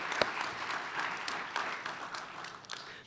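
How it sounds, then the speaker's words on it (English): Audience applause at a mayor's awards ceremony: a steady wash of clapping from a seated crowd, fairly soft and even, sustained for about three seconds without speech. "but we'll still give her a big round of applause."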